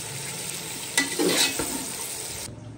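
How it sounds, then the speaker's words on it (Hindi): Chopped tomatoes are stirred into chickpea pulao in a hot pot, a soft hiss of frying broken by a scraping stir near the middle, close and moderately loud. "हम इसमें 3 मीडियम साइज के कटे हुए टमाटर ऐड कर देंगे और अब हम इसको अच्छे से मिक्स कर लेंगे"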